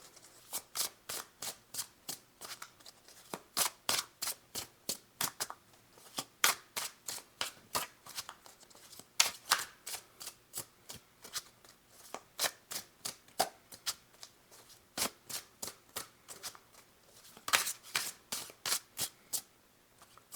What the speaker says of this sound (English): your cards are like, they don't want to stop shuffling